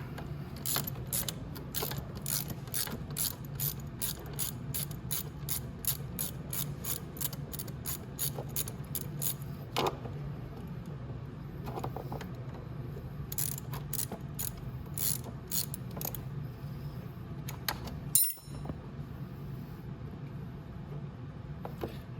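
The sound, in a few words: ratchet tightening bolts on electric ATV motor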